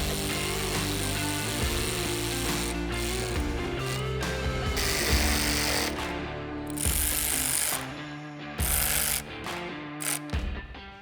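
A power tool snugs up the hardware on the windshield brackets of a CFMoto Uforce 1000, giving close, loud bursts of ratcheting whir that start and stop, with brief pauses between fasteners.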